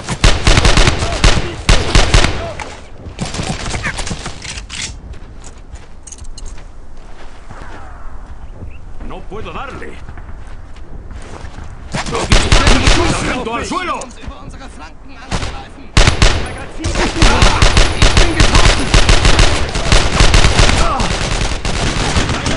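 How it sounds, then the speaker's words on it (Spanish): Rifle and machine gun fire in the Brothers in Arms video game, loud bursts of automatic fire and sharp shots in heavy flurries at the start and end, with a quieter stretch in between and shouting voices mixed in. "¡Apuntad bien y disparad!"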